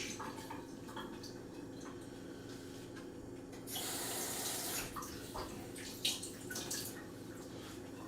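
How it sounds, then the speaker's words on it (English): Water is poured out into a kitchen sink, a soft continuous splash that swells briefly louder midway before settling into faint trickling and drips, with no voices. "We need to clean this, so I'll pour this out into the sink"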